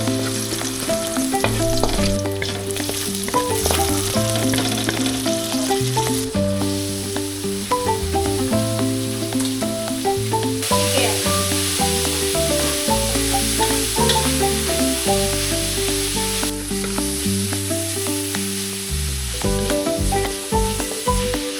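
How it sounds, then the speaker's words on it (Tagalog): Vegetables including bell pepper, Baguio pechay, cauliflower, celery and broccoli are sautéed for pancit bihon, giving a loud continuous sizzle with stirring, while background music plays throughout. "Magigisa na po tayo."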